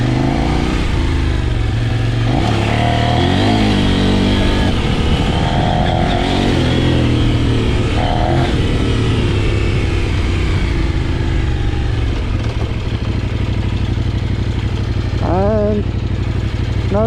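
A Kove 800X Pro adventure motorcycle rides along, its engine droning loudly and steadily with rises and dips in revs, close and continuous, while a rider talks over it.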